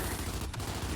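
Rapid automatic weapon fire from a machine gun in the competitive Gears 5 match, a dense continuous burst of shots filling the whole second, loud and close with a brief dip midway.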